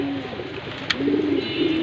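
Racing pigeons, a big light-coloured running pair kept in a cage, give low, soft cooing murmurs close by against a steady background hiss.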